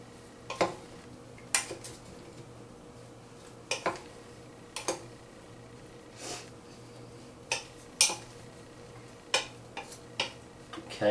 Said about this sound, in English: Take a spoon, gonna mix it all up so the meat isn't sitting all on the top.